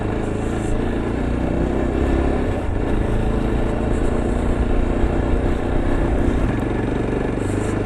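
A motorcycle grinding slowly over a rough, rocky mountain road on the way to Chanshal Pass, its engine a steady, loud, close rumble that carries on without a break for several seconds, with no talking.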